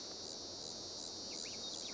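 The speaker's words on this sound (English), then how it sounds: "There's the cicadas again." Cicadas drone in the PC video game No Man's Land, a steady, faint, high-pitched insect buzz that holds evenly throughout with no voices.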